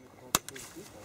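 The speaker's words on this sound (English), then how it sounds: "Lock it in, close the top. Rack it once." A Browning 1919 machine gun being racked once, a sharp loud metallic clack followed by a fainter second click, close up in a short quiet moment.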